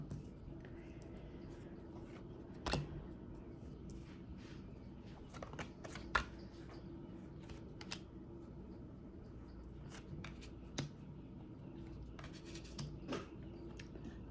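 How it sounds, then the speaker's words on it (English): Tarot cards are laid out one by one on a table: soft scattered slaps and slides of card stock, faint and close, with light sporadic rustling between placements. "I'm going to go ahead and lay out the cards"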